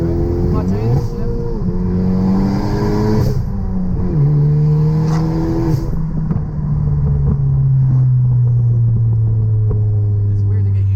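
Big-turbo Ford Focus ST accelerating hard after a gear shift, engine note climbing steadily and loudly from inside the cabin, with brief dips at shifts and a voice speaking over the sustained rising roar.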